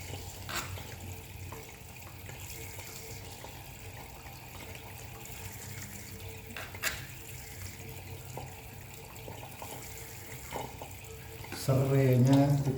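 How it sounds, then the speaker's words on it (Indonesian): Bay leaves and galangal are rinsed under a running kitchen tap, a steady moderate stream of water with faint handling noises and a louder splash at the end. "daun salam kita cuci, lengkuas kita cuci"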